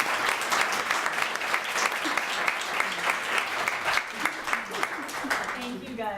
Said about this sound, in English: should we give a nice round of applause?